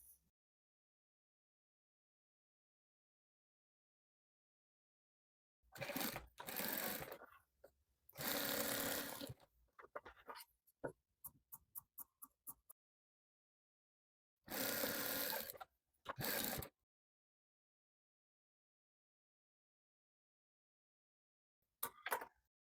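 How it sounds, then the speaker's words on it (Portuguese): Sewing machine stitching strips of plain and printed fabric together for a patchwork rug, running in several separate bursts with quiet pauses between, some short rapid stitch runs, no talking. "Então eu vou costurar uma cor lisa, uma estampa, cor lisa, estampa, até terminar essa parte aqui."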